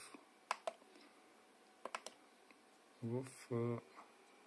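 A few light clicks on a computer keyboard as a number is typed, scattered soft taps followed by a short burst of voice near the end.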